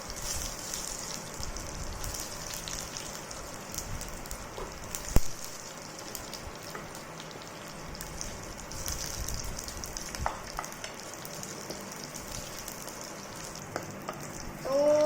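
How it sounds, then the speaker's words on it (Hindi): Curry leaves crackle and sizzle in hot oil for a Maharashtrian dadpe pohe breakfast, a steady close frying hiss with a few sharper pops, no voices. "कड़ी पत्ता डालेंगे हम।"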